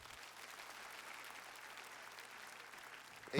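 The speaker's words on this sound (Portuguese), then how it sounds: "Vamos aplaudir a Jesus." A church congregation claps steadily after a call to applaud Jesus at an evangelistic sermon, a dense, even wash of many hands holding at moderate level for several seconds with no talk over it.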